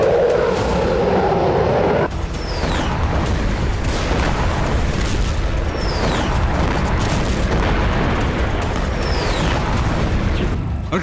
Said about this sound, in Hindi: क्लस्टर बम और थर्मोबैरिक बम और ग्लाइड बम का इस्तेमाल हो रहा है।